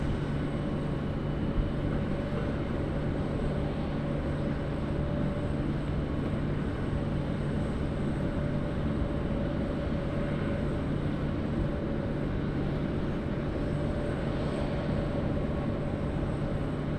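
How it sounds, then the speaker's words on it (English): A Japan Airlines jet, flight 52 bound for Haneda, holds a steady low rumble at Sydney Airport near runway 16. The drone runs evenly throughout at a distance with a faint tonal whine above it, and nobody speaks. "Japan Airlines coming out to play now."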